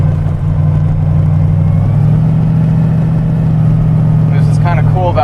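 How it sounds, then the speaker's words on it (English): A 1931 Ford five-window coupe hot rod engine idles with a steady, loud mechanical whine over a low, even drone, and a brief voice comes in near the end. "the mechanical timing sounds cool. I love that sound,"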